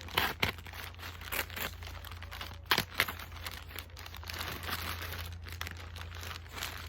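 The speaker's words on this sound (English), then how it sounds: "So let us cut this open." A bag of garden material cut open, giving continuous close crinkling and crumpling of plastic with a few sharper tearing snaps, fairly quiet and with no talk.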